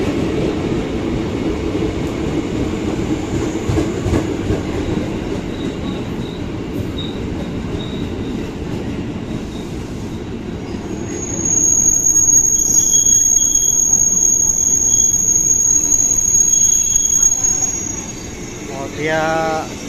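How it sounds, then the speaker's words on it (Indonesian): A KRL commuter train rolls into Pasar Senen station with a continuous loud rumble and clatter of wheels, a long high brake squeal rising partway through, and voices talking under the noise. "KRL masuk stasiun Pasar Senen"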